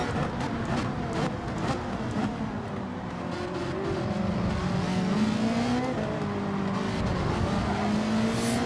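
Racing engines of a Porsche and a Ferrari running side by side in Gran Turismo 7, a continuous loud high-revving drone with shifting pitch as the cars accelerate and change gear, with occasional tire noise.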